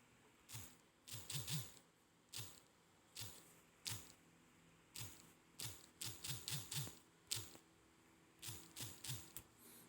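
An email address is typed on a computer keyboard as a string of close, quiet keystroke clicks, coming in short irregular runs with brief pauses between them.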